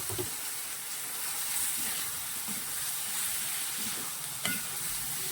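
Soybean chunks stirred through a spiced masala in a hot pan, a steady close sizzle and frying hiss with the scrape and shuffle of stirring, and one sharper clink near the end; no talking.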